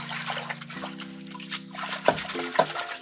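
Fenugreek leaves are washed in a vessel of water, with soft trickling, sloshing and small splashes close by while a steady tonal hum runs underneath.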